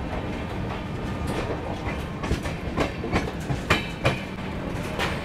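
The Vikramshila Express rolls steadily along the rails with continuous rumble and rhythmic clickety-clack of wheels over joints, loud and close, no voices.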